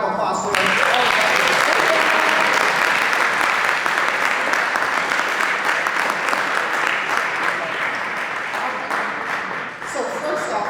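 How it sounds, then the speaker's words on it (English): A leadership summit audience breaks into loud, continuous applause for a session speaker, holding steady for about ten seconds before thinning slightly at the close. "let's give her another round of applause for her."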